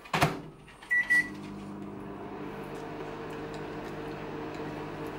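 A microwave oven is shut with a clunk, beeps a couple of times, then runs with a steady low hum while heating an Oreo mug cake, close and without talk.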